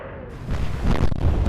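Warship guns in the naval combat game Atlantic Fleet fire in a deep, rolling boom that swells after a brief quiet start and rumbles on for over a second, loud and close with no voices over it.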